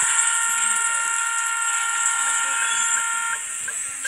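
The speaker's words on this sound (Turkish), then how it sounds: "Şu dıt dıt dıt gibi sesler var. Bunlar items." Items in the audio video game r.t.r give off a steady, loud electronic beeping buzz that holds for several seconds.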